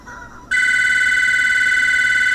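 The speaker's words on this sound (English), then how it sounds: "Of course, the damn phone's got to ring." A telephone rings loudly and steadily, a sustained electronic tone that cuts in abruptly after a brief quieter moment and carries on to the end.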